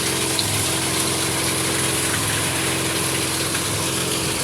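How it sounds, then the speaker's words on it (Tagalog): A water pump runs continuously while it forces fresh water into a tank of African catfish, giving a loud, steady rushing hum with a gushing wash of water. "Yan ang aking water pump."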